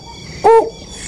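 A young bird chick, fed on crickets, gives a single clear, ringing 'ping' call, short and close, standing out against a quiet background.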